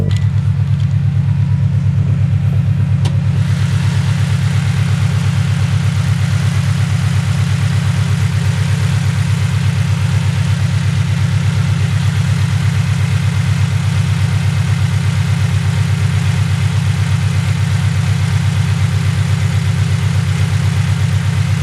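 A Subaru BRZ sports car engine idles steadily and loudly up close, a deep throbbing rumble with a rough, uneven texture that holds unchanged throughout.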